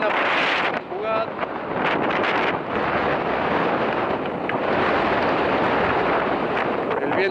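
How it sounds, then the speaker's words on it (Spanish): Strong wind gusting across an outdoor rugby sevens pitch, roaring continuously and buffeting the microphone, loud and broadband with brief dips. "El viento empieza a soplar con mucha fuerza"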